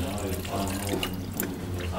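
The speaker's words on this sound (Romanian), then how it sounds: "Gata, a început să vină apă aici" Water runs from the bleed valve of a Dacia Logan's cabin heater radiator, a steady close splashing and trickling flow with faint voices underneath.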